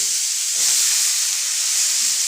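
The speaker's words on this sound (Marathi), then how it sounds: "आणि आता आपण आहे ना गवार टाकून घेऊया गवार अगदी स्वच्छ धुवून घेतलेली आहे" Washed cluster beans (guar) hit a hot pan with green chillies, giving a steady close sizzling hiss with steam that swells briefly after they land, no voices.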